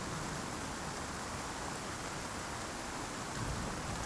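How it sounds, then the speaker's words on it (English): Rain falls steadily in the survival video game Icarus, a dense, even hiss with no breaks that holds at a moderate level throughout, with no talking over it. "Still raining, snowing."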